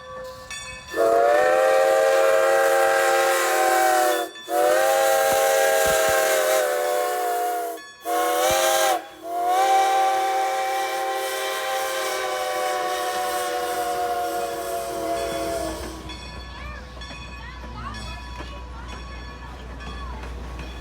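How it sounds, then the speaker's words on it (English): A loud, sustained steam locomotive whistle on the Strasburg Railroad blows in several long blasts with short breaks, then fades into the rumble and hiss of the passing train. "Feel that whistle in your chest."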